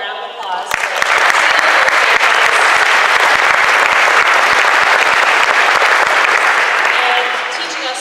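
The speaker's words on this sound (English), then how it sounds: "Let's give them all a round of applause" Audience at an emergency medicine conference panel gives a round of applause, loud dense clapping that starts abruptly, holds steady for several seconds, then tapers off near the end.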